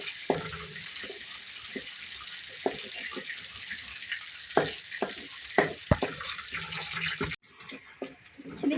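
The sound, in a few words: cumin and chopped chilies frying in oil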